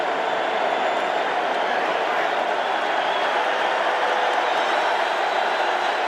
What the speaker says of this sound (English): Got to battle the crowd noise as well when you're a visitor here.